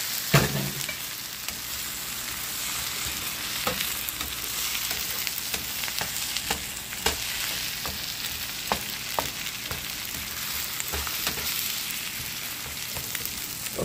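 Eggs frying in a pan give a steady close sizzle with scattered crackles and pops throughout, no talking.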